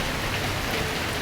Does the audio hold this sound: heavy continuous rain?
yes